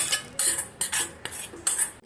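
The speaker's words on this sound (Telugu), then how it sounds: "బియ్యపు రవ్వలో తాలింపు వేసుకోవాలి" A spoon scraping and clinking against a vessel in repeated strokes as tempering is mixed into rice rava for mango ravva pulihora, close and alone.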